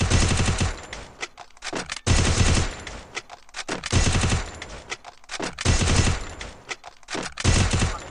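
Sniper and automatic gunfire in the Free Fire video game, heard as loud, close bursts of rapid shots in repeated volleys separated by short gaps.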